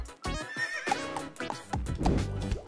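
A horse whinnies in a few shrill, quavering bursts, close and loud, with faint hoof clip-clops mixed in.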